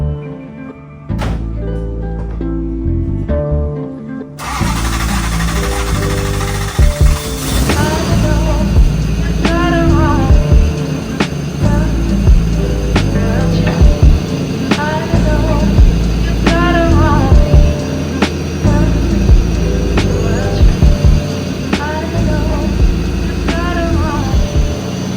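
A Nissan 240SX engine cranks and fires up, then settles into a loud, steady idle with rhythmic knocking and clunking thumps repeating throughout.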